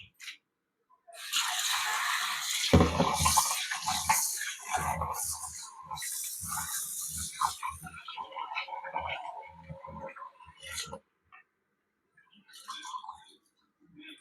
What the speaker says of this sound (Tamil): நல்லா இந்த மாதிரி வாஷ் பண்ணி எடுத்துக்கோங்க